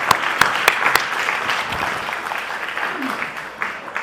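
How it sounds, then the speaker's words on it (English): An audience at a policy talk on the 2024 Taiwan elections claps to welcome a speaker to the stage, a few sharp close claps leading into a moderate, fading round of applause. "please join me to have a big round of applause to welcome Jacques deLisle onto the stage"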